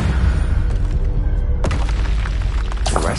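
An Incendio fire spell is cast in Hogwarts Legacy, producing a loud, booming burst with crackling debris. A second sharp blast follows about halfway through, and a third rises at the end, all dense and close with no talk.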